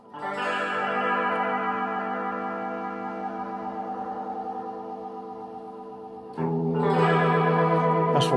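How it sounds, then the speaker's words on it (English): An electric guitar runs through an effects unit set to vibrato, with sustained wavering chords ringing out with echo, then a fresh strummed chord near the end; close and fairly loud, no voices. "That's vibrato."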